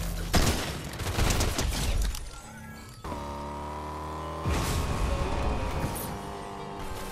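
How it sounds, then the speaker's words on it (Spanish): Rapid bursts of gunfire in the video game Fortnite, dense and crackling over the first seconds, then broken by a steady tonal hum before more shooting and clatter return, with no talk heard. "Están disparando ahí abajo"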